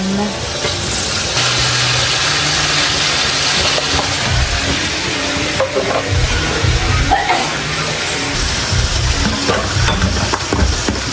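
Ham and mushrooms fry in a pan for carbonara, a steady dense sizzle with stirring scrapes running continuously and fairly loud throughout.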